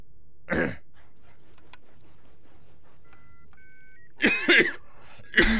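A person with a cold coughs in a few short, harsh bursts: one near the start, then a cluster of rough coughs and throat clearing toward the end, with brief beeps in between.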